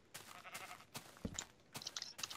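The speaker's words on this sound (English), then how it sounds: "Ooh, a sheep." A sheep in the Minecraft video game gives a few short, faint bleats, mixed with soft crunching sounds from the game.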